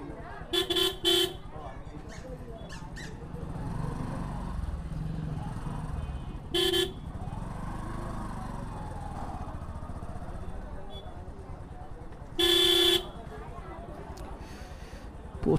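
Heavy traffic jam at Gopalganj main point, with engines rumbling and several loud horn blasts at intervals, one long blast near the end, while people talk over the din.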